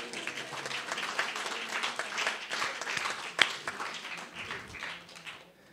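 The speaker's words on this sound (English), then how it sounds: "A round of applause, please." A small crowd at an arts venue show in Tacoma applauds, a burst of clapping that swells and then tapers off over a few seconds.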